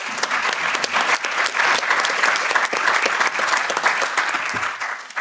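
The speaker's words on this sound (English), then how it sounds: "A round of applause for that." Sustained, loud applause from a conference audience for a speaker on an EU Ocean Week ecocide panel, dense and continuous before tapering slightly near the end.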